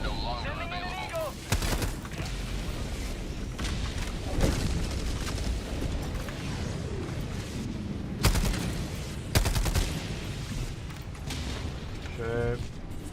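Orbital barrage bombardment in a video game, rolling booms and sharp blasts scattered across a continuous rumbling battlefield roar, with a voice talking intermittently over the chaos.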